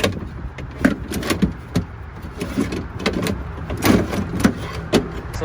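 Old window regulator being worked loose from inside a car door, with a run of irregular clunks, rattles and metallic knocks as the mechanism is pulled free, close and fairly loud.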